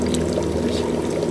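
Water pours steadily through a compact portable water purifier, a continuous close rushing flow at even loudness with no voices.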